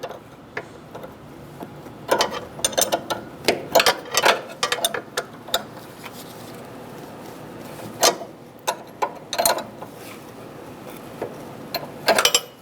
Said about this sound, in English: I'm just going to tighten up my tool using the box end of my wrench